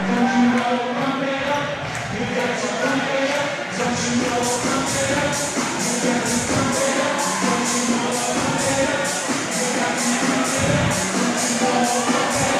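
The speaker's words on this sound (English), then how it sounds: "Crowd getting a little rowdy." Indoor crowd noise fills a college women's volleyball gym during a timeout at 21-21 in the third set of a conference match against the Reinhardt Eagles, a dense, steady roar with music or chant-like tones throughout.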